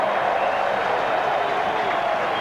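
Stadium crowd at a 1993 New Zealand versus Australia rugby league test at Mount Smart Stadium, a continuous loud, even roar of cheering and crowd noise with no breaks.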